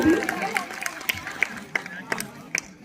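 Scattered claps ring out at a school event, sharp distinct hand claps at an irregular, fairly quick pace over a soft crowd murmur.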